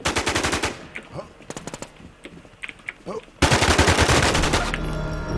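Automatic gunfire in the online survival shooter WarZ, with loud rapid bursts at the start, scattered shots through a quieter stretch, then a long sustained volley to the end.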